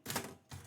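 Manual typewriter keys strike during live poetry writing, two quick clacks close together, then a pause and a third strike, close and fairly quiet with no voices.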